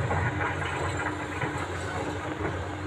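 A train hauled by a locomotive rolls past at close range in Indonesia, a dense, continuous rumbling roar with a hissing edge that holds steady throughout.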